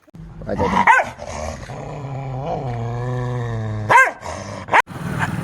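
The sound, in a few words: village dogs barking and growling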